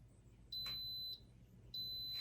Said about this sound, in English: So this should beep in just another few seconds